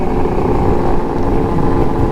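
Loud motorcycles riding close by in a group, a dense, continuous engine roar that fills the scene with no talking.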